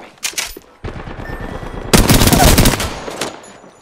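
Enemy gunfire in a shooter video game, rapid automatic bursts rattling close and loud, with a dense sustained volley in the middle and scattered shots around it.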